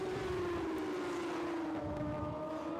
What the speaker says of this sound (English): as you can hear from the wail from the 600cc engines, is the 600cc Super Sports